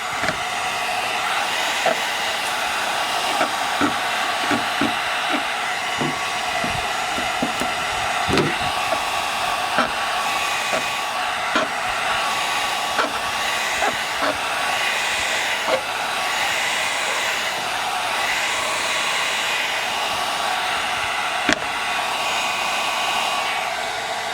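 Steady close airy whoosh of a heat gun warming tint film on a 2018-2023 Mustang tail light, continuous and even throughout with faint handling taps underneath.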